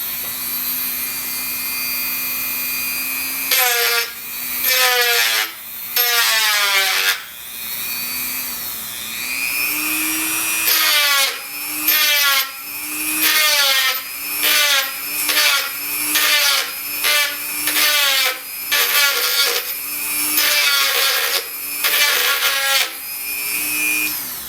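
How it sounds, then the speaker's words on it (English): A Dremel tool with a coarse grinding bit grinding material off the top of a bass guitar part, heard as a high motor whine broken into many short, repeated grinding passes, close and fairly loud. "Dremel tool with a something of a coarse grinding bit on it, and I'm just going to grind a little bit of material off the top of this."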